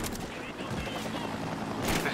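Rapid video-game gunfire rattles in quick bursts, fairly dense and steady throughout, with a louder burst near the end.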